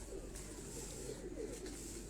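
An old pigeon coos softly in a few low, rounded calls, faint and close, with no talk over it.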